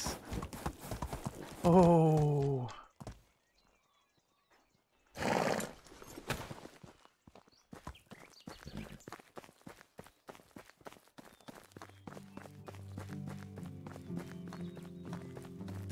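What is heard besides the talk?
riding a horse in video game Medieval Dynasty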